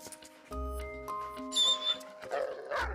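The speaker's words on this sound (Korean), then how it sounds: "그런데 갑자기 보호자를 향해 짖기 시작합니다." A dog yips and whimpers in short bursts at its owner, close and fairly quiet, with a few brief pauses between sounds.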